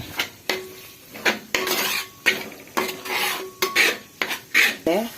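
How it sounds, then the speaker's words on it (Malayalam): A utensil stirs and scrapes masala in a pan before chicken is added, rhythmic metallic scraping strokes up close with a faint sizzle between them and no talk. "ഇനി നന്നായി ഇളക്കിയിട്ട് നമുക്ക് ഒന്നും കൂടി വാടിയതിന് ശേഷം നമുക്ക് ചിക്കൻ ഇതിലോട്ട് ഇടാം"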